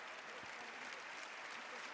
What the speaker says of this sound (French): On applaudit le pape